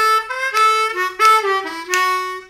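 Solo harmonica plays the second half of a tune, a run of bright, clear blow and draw notes with short accented attacks in a bouncy rhythm, close and loud with no voice over it.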